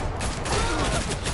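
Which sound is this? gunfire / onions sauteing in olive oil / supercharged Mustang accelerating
gunfire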